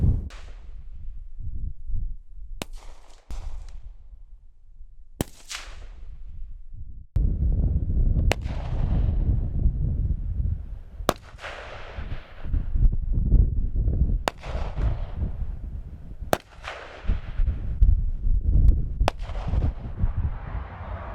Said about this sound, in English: we're going to be shooting both the Beretta 96 from the same shooting position, as well as from a different position opposite of the other shooter, an AK-47